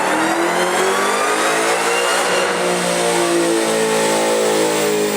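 A supercharged car engine revs hard and loud, its tone climbing and holding steady throughout with no talk over it.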